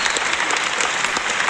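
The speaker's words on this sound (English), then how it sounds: "a big round of applause to all of you" Steady applause from a small crowd of participants after an online English discussion lesson, dense and even clapping filling the whole moment without pause.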